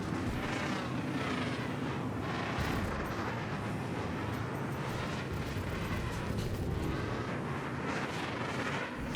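Jet engines roar continuously in an air-combat video game, a dense, loud rushing drone with swelling bursts as fighter aircraft run out of afterburner, with no voice over it.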